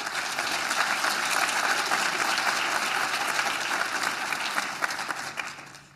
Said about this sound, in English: Let's pause for a moment to give them a round of applause.